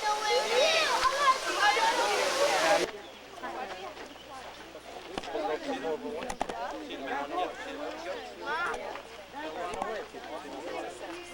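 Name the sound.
river water gushing inside a mountain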